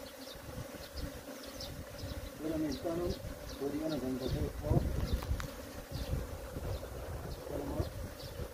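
Native Korean honeybees buzzing around a hive during artificial swarm splitting, a continuous close drone of wings with birds calling faintly in the background, under someone speaking Korean.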